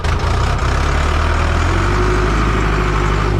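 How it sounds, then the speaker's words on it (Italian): A farm tractor idles steadily close by, a deep, even diesel rumble with a low throb that holds at a constant level throughout, with no voices over it. "È il trattore, va bene?"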